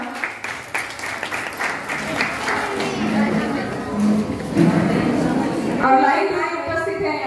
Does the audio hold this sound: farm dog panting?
no